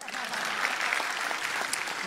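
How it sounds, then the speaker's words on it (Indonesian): A stand-up comedy audience breaks into brief, steady applause, a dense patter of clapping heard from a moderate distance. "Boleh tepuk tangan."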